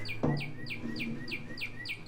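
A guitar played to imitate a bird sounds a string of eight quick, evenly spaced high chirps, clear and close, after a single low thump at the start.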